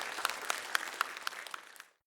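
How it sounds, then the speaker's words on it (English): Appreciative applause from an audience at the close of a performance, a dense patter of clapping with a few sharper claps standing out, fading away quickly at the end. "a wave of appreciative applause filled the air when the performance concluded."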